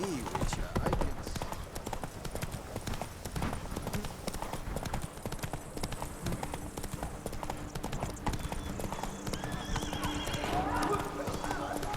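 Roach, a horse in The Witcher 3: Wild Hunt, galloping with rapid, continuous hoofbeats up close, a whinny breaking in, and a voice talking over the steady drumming.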